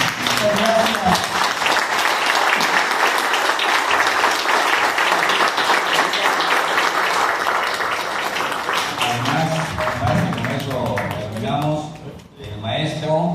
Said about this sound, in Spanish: pongamos un caluroso aplauso